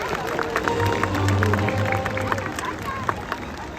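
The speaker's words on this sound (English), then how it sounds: "Let's give Orkid a nice big round of applause." A stadium audience at a SeaWorld San Diego orca show applauds for Orkid the killer whale, broad clapping and crowd noise under amplified speech.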